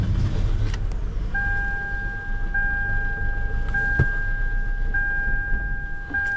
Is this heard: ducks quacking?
no